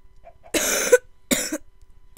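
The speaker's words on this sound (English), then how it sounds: "I hate having a cough because it annoys the heck out of me" Three harsh coughs close up, the first two long and rasping, the last cut short, with brief quiet between them.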